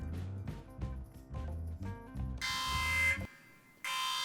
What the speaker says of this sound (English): What's that alarm?